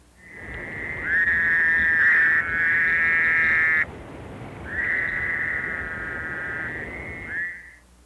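A Missouri toad calls in two long trilling bursts, each a sustained nasal buzz of about three seconds, close and clear with a short gap between them and faint background hiss.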